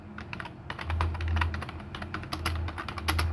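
Fingers type on a computer keyboard in quick, irregular bursts of close, crisp key clicks, with a few heavier thumps that sound like the space bar. No one speaks.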